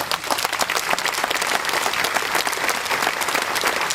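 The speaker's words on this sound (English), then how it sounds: "Thank you for that applause" Sustained audience applause at a naturalization ceremony for new citizens at Monticello on July 4, steady and dense, filling the whole stretch with no talk.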